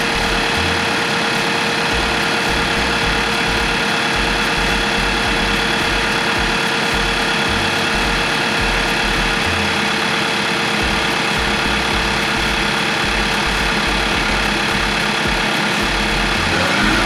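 The engine of a 2019 Nissan Titan with a weak battery and a no-start fault cranks continuously and loudly close up, a steady rhythmic churning that never catches.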